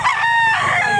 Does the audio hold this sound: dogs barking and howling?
no